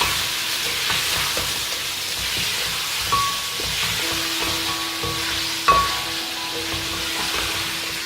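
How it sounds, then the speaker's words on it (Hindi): Mutton fries in a pot for pulao while being stirred. A continuous close sizzle carries frequent scrapes and clinks of the stirring utensil, with one sharper knock late on. "हमने गोश्त को मज़ीद 5 से 6 मिनट के लिए भूना है।"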